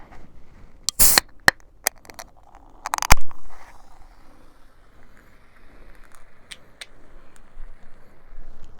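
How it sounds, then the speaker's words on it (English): A cold drink can is cracked open up close: a few sharp metallic clicks and snaps from the tab, a louder pop and hiss at about three seconds, then faint quiet fizzing for the rest. "I needed to crack open a cold one because of everything going on."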